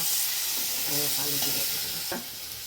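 Onion paste and garlic paste hit barely heated oil in a pan, giving a loud, bright hissing sizzle with a few stirring scrapes, then easing slightly toward the end.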